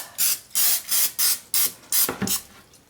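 Six short hissing bursts of cooking spray onto a baking pan in a quick, even series, ending with a softer clatter; no voices.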